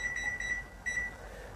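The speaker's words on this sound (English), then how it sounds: "So I'm just gonna put the timer on." A kitchen timer beeps in quick, evenly spaced high electronic pips, then pauses briefly and beeps again, fairly faint in a quiet room.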